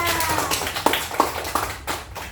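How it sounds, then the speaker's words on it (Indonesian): Children in an Indonesian classroom clap their hands together in a loose, uneven burst of separate claps, fairly close and loud, with a few sharper strokes standing out and no talking over it. "Oke, kita tepuk tangan."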